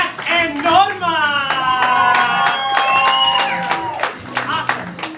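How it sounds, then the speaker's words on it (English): An audience at a student improv comedy show applauds after a scene, a dense, close burst of clapping with some cheering, while a host's voice talks over it throughout. "Give them a round of applause."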